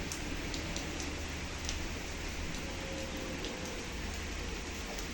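Dense, steady rain pours down continuously, a loud hiss of drops drumming on surfaces with no other sounds standing out.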